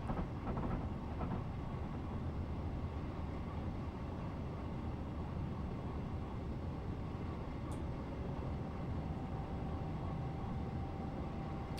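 A Class 444 electric train accelerates on the South Western Main Line in Train Simulator, giving a dense, steady, loud rumble that stays even throughout, with a faint high whine and no talk.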